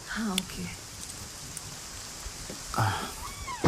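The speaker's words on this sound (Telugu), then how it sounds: "వర్షం ఇప్పుడప్పుడే తగ్గేటట్లేదు" Steady rain hissing in the background, with brief voices speaking near the start and again toward the end.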